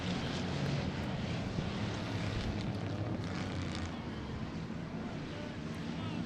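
Factory stock cars racing three wide at Havasu 95 Speedway on asphalt, a steady, loud engine roar filling the whole stretch without a break, with crowd-level broadband noise and wind buffeting the microphone.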